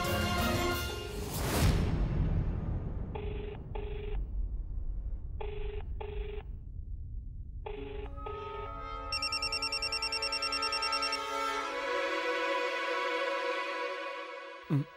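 A telephone rings in bursts of repeated tones, then an electronic ringtone melody plays loudly and steadily to the end, with no talking over it.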